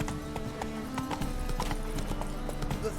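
Hooves of the horse Roach clip-clopping in a video game, a steady close rhythm of sharp hoof strikes with faint background ambience.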